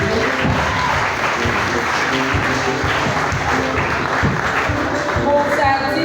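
Audience applause at a ceremony honouring a child as third-best of the year for good conduct, steady dense clapping from a crowd throughout, loud and close, with no talk over it.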